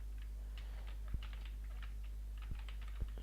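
Typing on a computer keyboard during a web app installation: soft clustered key clicks form a steady patter, with a few sharper, louder keystrokes standing out over a low constant hum.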